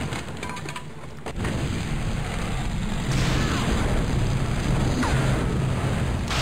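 Lighthouse destroyed in The Iron Plague game: a sudden low boom around the one-second mark, followed by steady dense rumbling and crackling debris that stays loud to the end.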